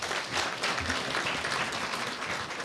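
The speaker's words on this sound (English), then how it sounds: "I think he deserves another round of applause." An audience at a gala dinner gives a short, steady burst of applause, a dense patter of many hands clapping with no talking.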